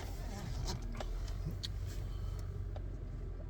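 A Ford F-150 hybrid pickup drives forward on its gas engine with a low, steady engine and road rumble heard from inside the cab, plus a few faint clicks and knocks. No voices.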